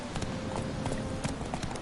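The horse Roach's hooves clip-clop in The Witcher 3 in a quick, regular rhythm, each hoofbeat crisp and close over a steady background.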